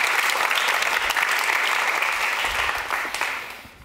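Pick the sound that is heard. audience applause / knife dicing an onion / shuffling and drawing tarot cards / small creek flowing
audience applause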